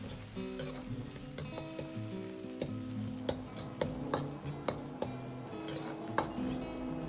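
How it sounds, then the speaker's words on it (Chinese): Garlic cloves and bird's eye chilies stir-frying with meat in a wok, a steady sizzle broken by repeated sharp scrapes and clacks of the spatula, close and moderately loud with no talk. "一定要把大蒜煸炒至微黄，这样味道才会更香一些"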